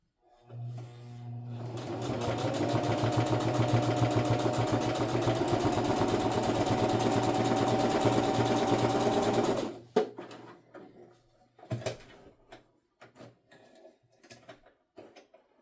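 A sewing machine stitches fabric for a makeup bag in one steady, loud, fast-whirring run of about eight seconds, then stops, followed by scattered handling clicks and rustles.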